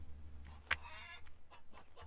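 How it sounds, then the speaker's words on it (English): Chickens in the farming video game Farmer's Dynasty give a few faint, scattered clucks, including one sharper squawk, over a low steady background hum. "Is that just the chickens?"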